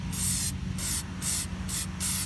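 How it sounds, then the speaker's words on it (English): A spray can lays rubberized undercoating onto a rusty trailer hitch receiver on a Ford F-150 in four close, loud hissing bursts, each about a third of a second long, with short pauses between them and no talk. "what I'm using here is it's called a undercoater with rubber, so it has a little texture"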